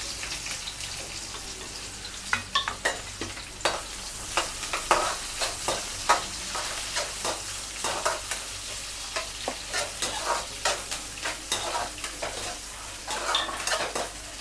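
Onions frying and being stirred in a home kitchen pan, with a steady sizzle broken by repeated sharp scrapes and clinks of a utensil against the metal, close and fairly quiet throughout.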